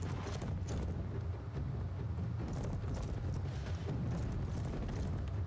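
Horse hooves clip-clop through a dramatic fantasy TV scene, the steady hoofbeats mixed into a dense, loud score and background rumble with no clear gaps.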